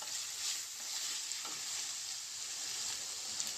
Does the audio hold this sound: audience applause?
no